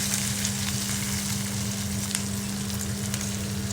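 Tender ivy gourd frying in a pan with a dense, continuous crackling sizzle, close and even, with a low steady hum underneath and a few faint stirring scrapes.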